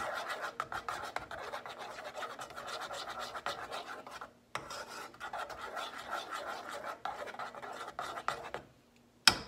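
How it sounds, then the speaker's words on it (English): Spoon scraping and stirring caramel with liquid lecithin in a pot on low heat, a close, steady rhythmic scratching with a brief pause midway and a knock at the end. "we're just gonna stir this with the heat still on low"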